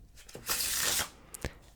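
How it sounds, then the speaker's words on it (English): A single quick riffle shuffle of playing cards, a brief crisp fluttering burst followed by a soft tap as the deck squares up, close and quiet. "my favorite shuffle is the Ripple Shuffle because of how nice it looks,"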